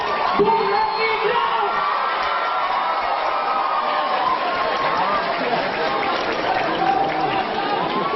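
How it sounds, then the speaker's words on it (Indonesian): A lively university audience at a public discussion at UM Jember claps and cheers in a continuous loud wash, with shouts and chatter mixed into the crowd noise. "Kita sambut dengan tepuk tangan yang meriah."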